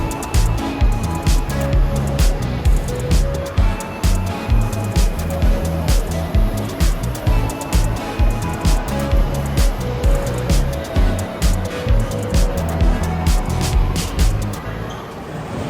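Indoor roller coaster inside Berjaya Times Square shopping mall in Kuala Lumpur, a loud continuous rumble of the ride with crowd noise and hubbub throughout, people talking nearby over the din.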